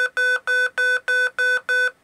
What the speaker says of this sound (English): we're getting a lot of angry beeping